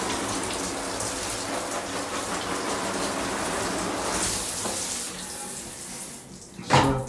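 Running water rinses a large darkroom print after bleaching with potassium ferricyanide and fixing, a steady close splashing wash that ends with a brief louder splash.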